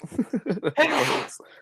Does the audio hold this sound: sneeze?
yes